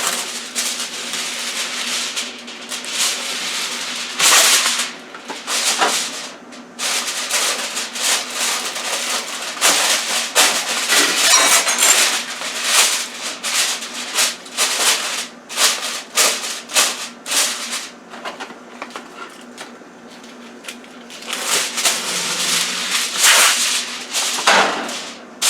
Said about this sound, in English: now I'm going to cover this with aluminum foil.